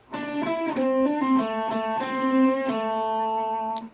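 Electric guitar with a touch of distortion playing the second phrase of an intro, a quick sequence of notes with slides ending on a held tone, close and steady with no speech.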